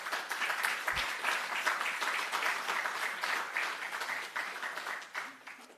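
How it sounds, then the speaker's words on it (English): Graduates at a data protection training awards ceremony receive a steady round of applause from the gathered audience, dense continuous clapping lasting several seconds before tapering slightly at the end. "A round of applause to all the graduates here."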